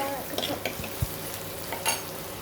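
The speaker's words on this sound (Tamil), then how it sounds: "அதுக்கப்புறம் பச்சை மிளகாய் போட்டுக்கிறாங்க. வதக்கணும்." Green chillies sautéing in a pan for sambar, a soft steady sizzle with a few scattered clinks and scrapes of a stirring spoon, fairly close and without voices.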